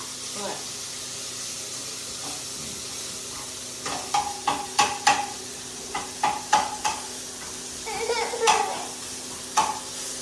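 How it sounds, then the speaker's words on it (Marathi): Ground spice paste is stirred and sautéed with roasted cluster beans in a pan for a Kolhapuri-style vegetable dish. Spatula scrapes repeat over a steady sizzle while a person talks. "वाटण टाकून त्यात परतून घ्यायचं"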